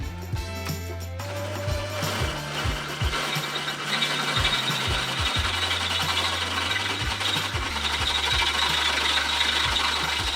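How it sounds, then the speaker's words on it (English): A drill grinds into the steel frame of a Tacoma pickup for a rear tube bumper mount, a close whirring bite with repeated ratcheting clicks and steady mechanical rattle throughout. "now I can drill out the frame where this is gonna mount"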